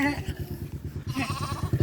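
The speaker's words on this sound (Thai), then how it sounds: "อันนี้แกะ" Sheep bleat close by in a farm setting, a wavering bleat at the start and another near the end, with people talking in the background throughout.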